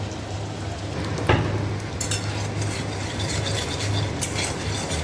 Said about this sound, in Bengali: লাস্ট ডিমটা ভাজা হোক